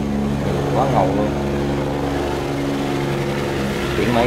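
A barge's engine runs with a steady, loud low drone on the water, and voices can be heard over it.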